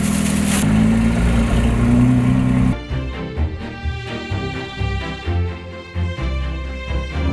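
A Porsche GT3 RS engine rumbles while rolling through a drive-thru, first a loud steady drone that then drops to a quieter, uneven low idle with small throttle blips.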